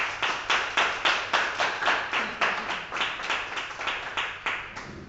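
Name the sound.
audience applause at book presentation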